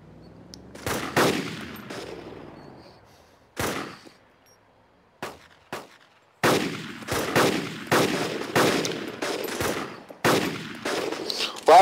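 Gunfire in the video game DayZ mod: scattered single shots and short bursts crack out, sparse at first and then in dense rapid volleys, loud and close.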